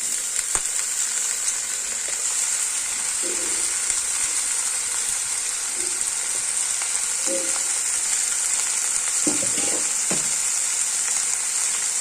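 Leafy stem greens sizzle steadily in hot oil with lightly fried onions, a constant crackling hiss broken by a few soft stirring knocks.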